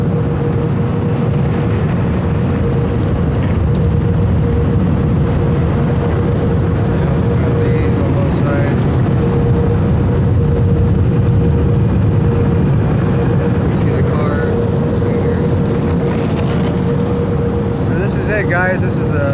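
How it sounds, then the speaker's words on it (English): Powerful air dryer at a Tommy's automatic car wash blasting water off a Z34 Lumina, a loud, constant roaring whoosh with a steady tonal hum, heard from inside the car. "And the air dryer on this is pretty powerful. As you can see, it just blows the water away."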